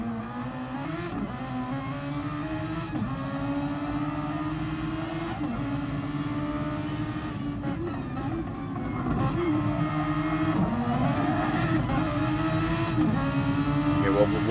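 A race car engine roars steadily from inside the cockpit, pitch climbing and dropping sharply with gear changes and revs, loud and continuous throughout.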